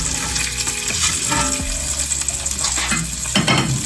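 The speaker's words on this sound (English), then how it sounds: "It's really good to cook your fish in cast iron." Salmon frying in a cast iron pan crackles and sizzles steadily and loudly, with occasional clinks from a utensil against the pan.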